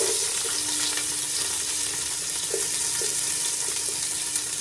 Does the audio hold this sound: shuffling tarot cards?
no